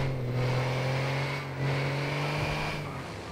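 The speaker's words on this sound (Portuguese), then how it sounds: "Vocês acompanhar a viagem aí, vocês escutar o ronco do caminhão." A video-game truck engine drones steadily with a low, sustained roar that swells slightly as the revs shift, continuous and fairly prominent.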